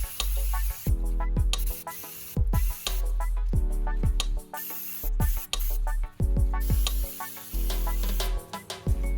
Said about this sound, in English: I'm using shop rag while spraying the cleaner to avoid mess.